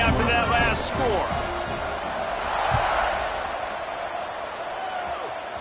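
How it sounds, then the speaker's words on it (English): A football video game stadium crowd buzzes in a steady, loud roar that carries through the whole stretch, with a commentator's voice talking over it. "this crowd is buzzing after that last score"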